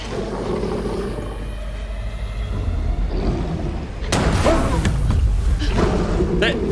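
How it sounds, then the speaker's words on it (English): A single loud gunshot cracks out partway through a scene in The Quarry. It breaks a low, rumbling, tense ambience, and heavier noise continues after the blast. "I'm pretty sure I shot him in the face."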